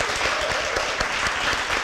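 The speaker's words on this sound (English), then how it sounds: "let's give Nikki one last round of applause" Applause from an audience at a talk-series event honouring speaker Nikki Betts, a steady wash of many hands clapping loudly and continuously throughout.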